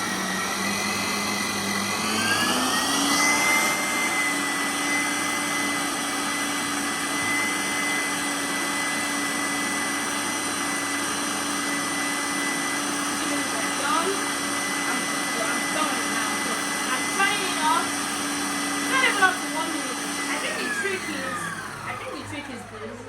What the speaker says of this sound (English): put it back in the compartment of the mixer, and then I start it for a few minutes.